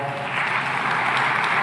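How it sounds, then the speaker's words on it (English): An audience at an official event in Dar es Salaam applauds a visiting Norwegian minister with a steady, dense wash of clapping that continues unbroken through the short stretch. "A big round of applause for her."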